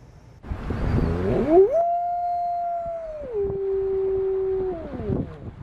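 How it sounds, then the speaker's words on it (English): A coastal sea wolf in the Great Bear Rainforest of British Columbia howls a long, steady, mournful note that drops in pitch midway and then trails off, with a softer rough yelp at the start. "there lives a species of animal unique in the world, wolves that live off the sea"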